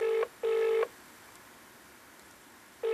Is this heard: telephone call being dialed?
yes